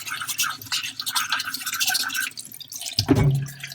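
Water dripping onto a Tomo Nagura whetstone during lapping: rapid, close, scratchy strokes at first, then a louder wet splash and drip near the end.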